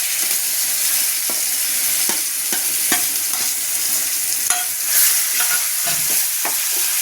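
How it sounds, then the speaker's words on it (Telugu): Tempering spices sizzle steadily in hot oil for a cucumber and tamarind chutney, a loud continuous frying hiss broken by several sharp clicks of a spoon stirring against the pan, no voices. "తాలింపులు వేసేద్దామండి"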